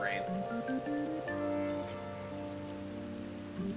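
Rain on a school rooftop during a Persona 5 video game cutscene: a soft steady hiss of falling rain mixed under sustained musical tones, with no clear speech.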